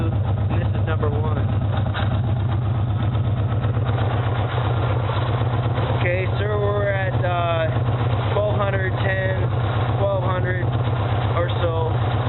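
A 2004 Yamaha Warrior ATV engine running at around steady idle, a close, constant low throbbing drone that continues without change while someone talks over it.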